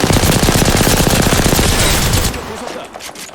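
Rapid automatic gunfire in the Apex Legends video game, a loud close burst of dense repeated shots for about two seconds before cutting to quieter game sounds, with a voice talking over it.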